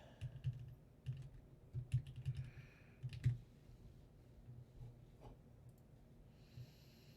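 Fingers clattering on a computer keyboard in quick irregular bursts, close and clear, with short pauses between clusters of keystrokes and faint breathing in a quiet room.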